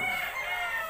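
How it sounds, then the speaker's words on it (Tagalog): A rooster crows once, a brief rising call at moderate distance with no voices over it. "kinantahan ako ng manok guys sa ating birthday celebration"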